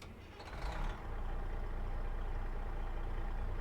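A steady, rumbling truck engine in American Truck Simulator idles continuously after a brief louder surge near the start, low and constant throughout.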